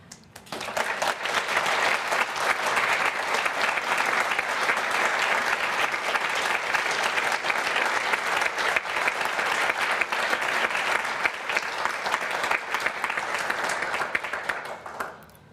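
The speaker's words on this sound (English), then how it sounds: "Thank you for the applause there" An audience at the National Press Club applauds a speaker on the Indigenous Voice to Parliament, with loud, continuous clapping that holds steady for about fourteen seconds before cutting off abruptly.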